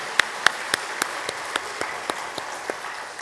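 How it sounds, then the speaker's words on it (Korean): Sparse, scattered hand claps from a small church congregation during a Sunday service, about a dozen sharp claps spread unevenly over a few seconds, moderately distant with no talking. "박수 한번 해주십시오."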